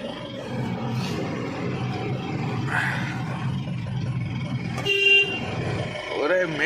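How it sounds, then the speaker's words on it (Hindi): A car horn gives a short toot partway through, over a running engine, while someone talks throughout. "मेरे गाड़ी में हॉर्न भी बजता है।"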